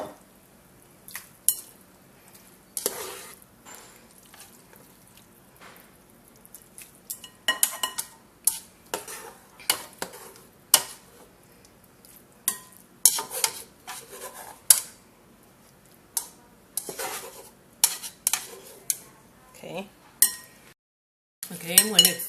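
Metal utensils clink and scrape against a pan and bowl as Lao fried noodles are moved across, a run of irregular sharp taps and clatters separated by quiet gaps.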